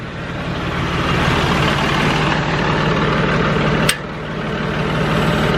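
A John Deere 5065 tractor engine runs at a steady idle-like rumble on a foggy morning, continuous and close, with one brief sharp click partway through.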